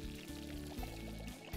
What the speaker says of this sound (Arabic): ومنضيف المي،